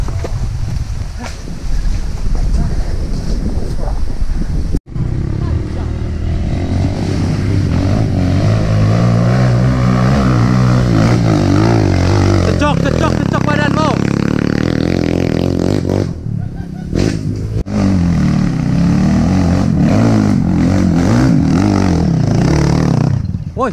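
A trail motorcycle engine revs hard climbing uphill, its pitch rising and falling loudly and close through the throttle bursts, with a rider's voice heard at times over it.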